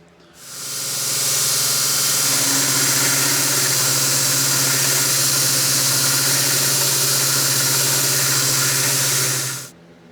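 A belt grinder runs steadily with a loud, continuous hiss and a low motor hum as a small knife forged from scrap steel is pressed flat against the platen, starting up and stopping after about nine seconds.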